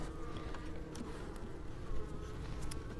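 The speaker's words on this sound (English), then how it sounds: "there are definitely bees in here" Honey bees buzzing inside a hive box where comb is just being drawn out, a faint continuous droning hum with a few individual bees whizzing close by.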